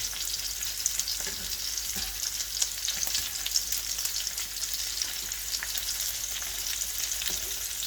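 Onion and bell pepper sizzle and fry steadily in a pan, a dense continuous crackle with occasional faint stirring scrapes and no voices.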